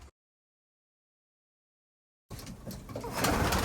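Pigeons in a loft of male birds, heard after a brief silence as a dense, close murmur of cooing and shuffling that grows louder toward the end.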